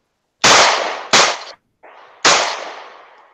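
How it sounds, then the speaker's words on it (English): Three sharp, loud gunshot-style bangs, two in quick succession and a third after a short pause, each followed by a fading tail, as a sound effect in a podcast about ammunition reloading. "Shots fired. Gunfire."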